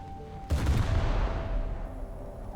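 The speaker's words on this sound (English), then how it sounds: "we'll go into ripple fire, and then we'll activate the 76s as well" Destroyer in World of Warships opening rapid ripple fire alongside its 76 mm guns: a sudden loud burst of overlapping booms and blasts that rolls on continuously and fades slightly toward the end, with no voices.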